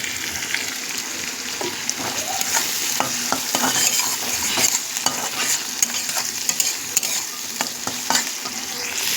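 Pieces of fish fat fry in oil with green chilli, giving a loud, dense sizzle with frequent crackles and the scrape of stirring throughout.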